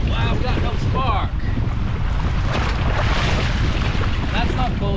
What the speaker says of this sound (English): Water crashing over.